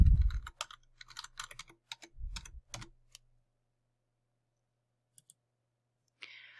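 A password is tapped out on a computer keyboard in a quiet room: a close, quick burst of key clicks for about three seconds, then silence with a couple of isolated taps.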